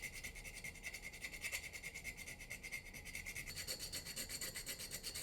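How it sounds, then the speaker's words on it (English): Hand file rasping over the deck of a diecast model car, quiet rhythmic back-and-forth strokes in a steady scraping pulse, the tone shifting slightly partway through as filing continues alone. "I'll do some filing on here too, try to get everything smoothed out."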